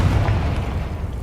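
A Confringo blasting spell goes off in the Hogwarts Legacy video game, giving a muffled, booming burst with a rumbling low tail that fills the whole short moment, without speech.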